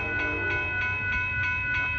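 The triple-header Amtrak California Zephyr Train #6, eastbound with P42 locomotives, rolls past Sutro Street with a loud, steady rumble, sustained tonal whine and regular rhythmic wheel clacks.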